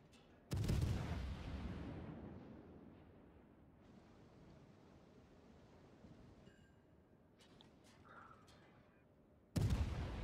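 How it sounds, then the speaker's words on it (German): A warship in World of Warships, a naval combat video game, fires an armor-piercing main-battery salvo: a loud booming blast at the start, a long rumbling decay, then a second heavy blast at the end, with no talking. "Also schieße ich jetzt eine AP-Salve"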